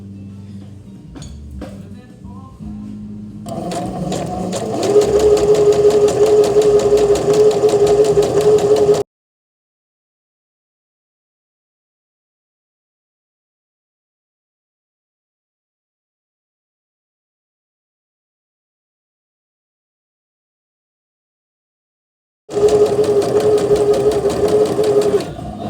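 A home sewing machine stitching a blind hem runs in a steady, loud whirring burst for a few seconds, goes silent for a long stretch, then whirs again briefly at the end.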